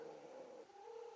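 Cats purr with a low, continuous rumble and faint meow-like tones, close and alone in a quiet room.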